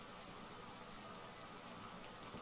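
Steady rain from the video game Phasmophobia hisses evenly and faintly throughout, a constant wash of drops with no talk over it.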